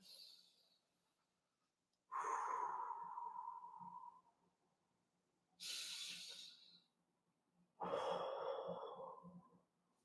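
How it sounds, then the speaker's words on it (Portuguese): Deep breathing exercise: slow, close inhales and long exhales, three or four drawn-out breaths separated by short silences, airy and hissing, with no talk over them. "Eu dei essas duas respiradas aqui e já fiquei zen."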